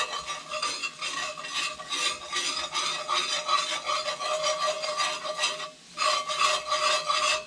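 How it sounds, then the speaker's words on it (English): A whisk scrapes quickly and rhythmically through a flour-and-fat roux in a pan over medium heat, a close, continuous rasping stir that breaks off briefly before starting again. "we're just going to whisk this in until we get kind of a nice little paste."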